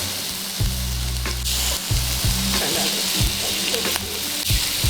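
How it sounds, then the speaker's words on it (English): Filet mignon searing in a hot pan with a few tablespoons of butter gives a loud, steady sizzle and crackle, with occasional clinks and scrapes of utensils close by and no voices. "we're gonna just sear that side, and I'm gonna add a couple tablespoons of butter to the pan"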